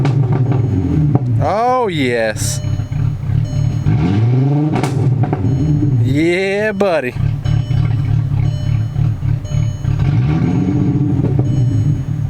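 A Volkswagen Mk4 GTI engine, its misfire fixed, revs up and down in several rising and falling sweeps over a steady idle, loud and close, with a man briefly cheering between the revs.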